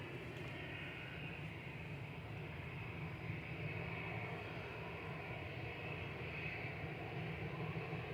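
An easyJet airliner at Manchester Airport gives a steady, distant engine roar, a broad low rumble that holds evenly throughout with no voices over it.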